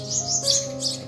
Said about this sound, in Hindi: और ये चिड़िया यहाँ पर